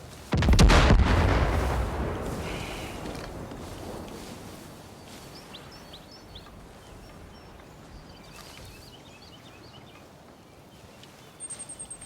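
A junk car exploding in the video game Far Cry New Dawn, one loud, close blast followed by a long, fading rumble and debris hiss, with faint bird chirps and a few clicks at the end.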